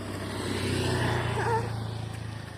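A motorcycle engine drones steadily nearby, a low continuous hum that swells slightly and eases off as it passes, with faint voices and outdoor background noise.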